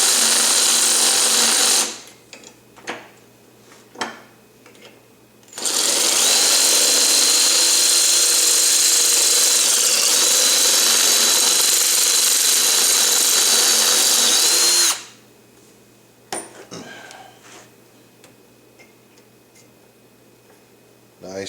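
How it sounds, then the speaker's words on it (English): A step drill bit boring out a metal part for a homemade yellowfin tuna harpoon, a loud, close drill whine in two long runs separated by quieter ticking and handling sounds. "let's drill this out to the right size. Let's use a step bit to progressively increase."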